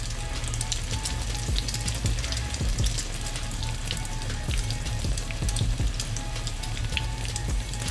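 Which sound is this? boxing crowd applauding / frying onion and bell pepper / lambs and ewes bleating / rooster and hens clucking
frying onion and bell pepper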